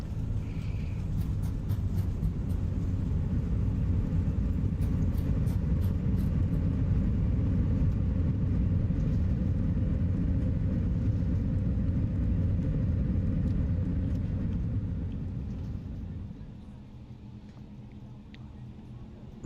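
An Airbus A320 in Microsoft Flight Simulator 2020 lands with thrust reversers deployed, producing a loud, broad, steady roar that holds for about fifteen seconds before dying down to a quieter rumble.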